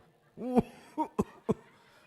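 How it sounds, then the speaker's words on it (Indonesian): Several short coughs into a mosque loudspeaker, one longer hacking burst followed by three quick sharp coughs, close and slightly boomy, with quiet hum between. "Batuk di speaker lagi."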